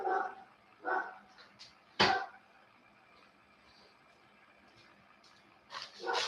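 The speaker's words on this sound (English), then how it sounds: "Those dogs." Dogs barking nearby in short, separated outbursts, one loud sharp bark in the middle and a couple more at the end, with quiet gaps between and no talking.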